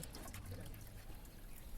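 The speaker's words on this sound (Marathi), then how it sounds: "आता एका चाळणीच्या साहाय्याने मी हे सगळं सूप गाळून घेते." Tomato soup is strained through a sieve as a faint, continuous trickle of liquid runs close by, with soft splashing throughout.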